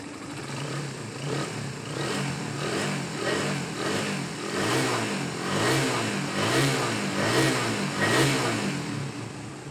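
A Honda R150 carbureted motorcycle engine, prone to stalling when wet, revs repeatedly in rising and falling surges, loud and close, with no talking.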